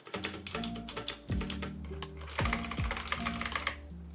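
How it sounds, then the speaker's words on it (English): Rapid clicky keystrokes from a mechanical keyboard with blue switches, steady typing with a few heavier key presses, close and fairly loud. "we have my White Shark keyboard, which is a mechanical blue switch keyboard"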